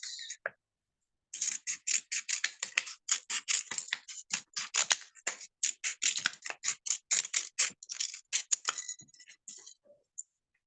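Scissors snipping through craft paper during an upcycling project, a long run of quick, crisp, closely spaced cuts heard up close after a brief opening snip and pause, trailing off into a few scattered snips.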